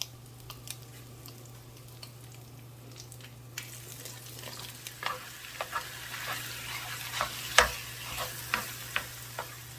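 Pork sausage fries in a cast iron pan, a low steady sizzle with a constant hum beneath and growing crackles and scraping clicks as it is broken up and stirred.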